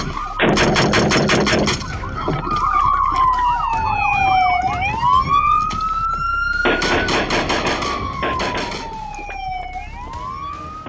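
A suspect fires gunshots toward police units during a chase, sharp cracks ringing out between and under the continuous wail of police sirens.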